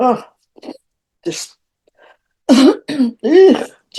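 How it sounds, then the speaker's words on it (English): Someone coughs and splutters in several harsh, throaty bursts with gaps between them, close to the microphone. "I start, coughing and spluttering in your face."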